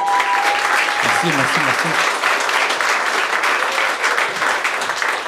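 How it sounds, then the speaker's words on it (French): Loud, dense applause from a studio audience at a French-language televised talent show, steady throughout with a brief spoken thanks and low voices partly under the clapping. "applaudissements public"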